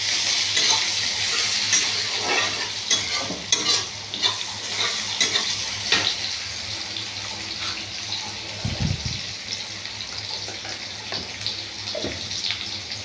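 Onion sizzles lightly in a pan while being stirred, a steady frying hiss broken by repeated scrapes and a couple of dull knocks from the spatula against the pan.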